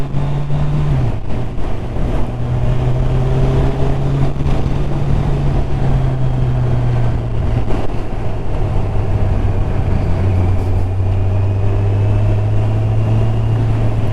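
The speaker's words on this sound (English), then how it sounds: "Finding the engine note very appealing on this bike. Sounds good when you're riding around." A 2019 Kawasaki Ninja Z1000SX four-cylinder motorcycle engine heard while riding on a cool day, a loud steady drone whose pitch rises, dips and settles as the revs change, with wind rush layered on top.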